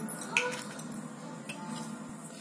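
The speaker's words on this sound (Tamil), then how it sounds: "ஒரு முட்டையை நம்ம உடச்சிக்கலாம்" One egg cracked for a wheat-flour sweet mixed with salt and cardamom powder: a single sharp, close tap early on, followed by faint small clinks in a quiet kitchen.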